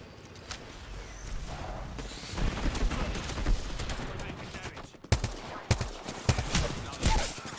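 Rapid video-game gunfire bursts during a vtuber ghost-hunting session, with several sharp loud volleys and clusters of shots in the second half over a dense noisy background, with speech mixed in.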